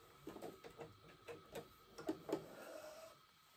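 A sewing machine runs ease stitching across fabric with a lengthened stitch, giving a faint, uneven run of short mechanical bursts and ticks with brief pauses between them.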